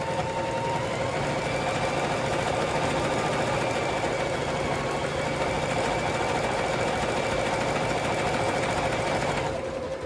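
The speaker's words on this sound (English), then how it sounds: "I'm sewing a project on this machine, I'm sewing soup bowls on this machine" A sewing machine chain-pieces soup bowl cozies, running in a loud, steady whir with a rhythmic needle chatter that carries on unbroken for nearly the whole stretch, then cuts off at the end.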